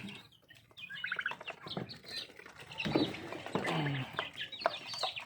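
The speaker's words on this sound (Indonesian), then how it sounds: "Nah, inilah ayam kalkunnya teman-teman" Turkeys on a small poultry farm gobble and cluck in a faint, busy chorus of overlapping calls, with scattered rustling and wing flaps nearby.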